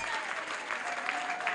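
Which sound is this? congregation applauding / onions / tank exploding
congregation applauding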